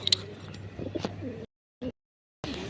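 Low, throaty pigeon coos close by, a cluster of rolling calls, then a brief silence, one short coo, and more cooing starting again.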